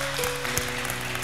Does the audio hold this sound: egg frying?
no